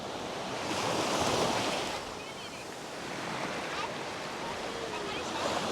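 Sea waves wash onto the beach at Can Picafort, Mallorca, with a continuous hiss of surf and wind that swells and fades over several seconds.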